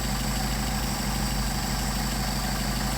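Mercedes 190SL engine with Solex 44PHH carburetors idling steadily at about 600 RPM during carburetor adjustment, a constant low, even drone with no talk.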